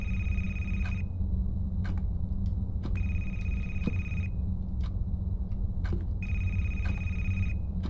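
A cell phone rings in a creepy library setting of a video game, sounding as repeated electronic trill bursts spaced by pauses over a steady low hum.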